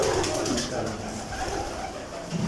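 A pet pigeon kept for eight or nine years coos softly in a low, repeated murmur, close by, with some faint background noise and possible voices.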